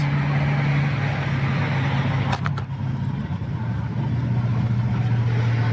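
A boxy Chevy pickup with a swapped LS V8 runs up a freeway held in third gear at high revs, giving a loud, steady engine drone and road roar that barely changes the whole way through.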